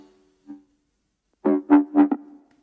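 A layered synthesized bass for the higher mids in dark liquid drum and bass, playing a few short close notes in quick succession after a faint earlier blip, alone.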